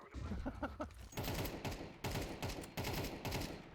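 Rapid bursts of automatic gunfire in Counter-Strike 2, several sustained volleys in quick succession after a few lighter shots, loud and close.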